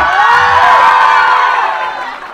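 At a movie first-look launch event, a large audience roars with loud cheering, whoops and applause. The crowd noise is dense and close, then fades slightly toward the end.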